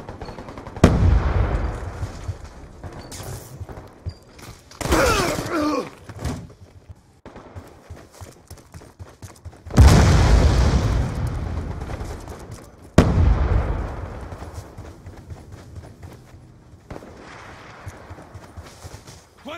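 Call of Duty: Black Ops 2 match with frag grenade blasts and bursts of gunfire, several heavy booming explosions spaced through the stretch among rattling shots, loud and close.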